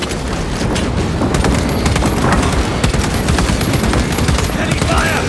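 Heavy automatic gunfire from Warhammer 40,000: Space Marine 2 hammers on without pause, dense overlapping bursts at close range, with booming impacts and shouted battle voices mixed into the din.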